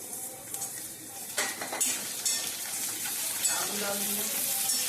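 Potatoes go into a pan and are stirred, bringing a close sizzle with clinks and scrapes of a utensil against the metal, and occasional soft talk in the background.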